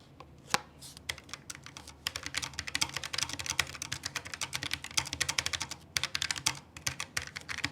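Fast, continuous typing on a keyboard with Gateron red linear switches, a rapid close clatter of light keystrokes with brief pauses, no talking.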